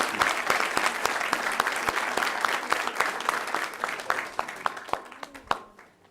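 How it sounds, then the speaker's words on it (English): Audience at a St Tammany Parish Council meeting applauding two assistant coaches, a moderate crowd clapping with distinct individual claps standing out, gradually thinning to scattered last claps before fading out. "Let's give them a big round of applause"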